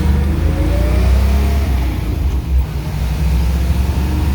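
A 1957 Chevrolet Bel Air convertible with a solid-lifter 283 V8 rated at 270 hp runs with a loud, deep, steady rumble that swells slightly as it revs, heard up close with no talking.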